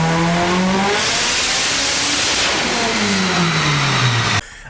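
A Mazda FD RX7 rotary engine revs hard and loud, rising and falling through sweeping pitch changes as it accelerates, very close and dominant, then cuts off abruptly.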